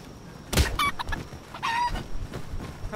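A chicken in the video game Palworld clucks in a few short bursts, close and fairly quiet, with brief gaps between calls.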